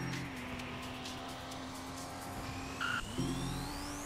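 Tyre squeal of a car drifting in a Roblox racing game, a steady engine drone with a sliding screech carrying through, then a brief bump and renewed revving near the end.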